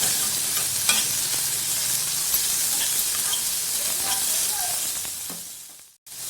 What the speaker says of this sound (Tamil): இது கூட ஏற்கனவே நறுக்கி வச்ச பெரிய வெங்காயம் ஆட் பண்ணுறேங்க. இதையும் நல்லா கலந்து விட்டுக்கலாம்.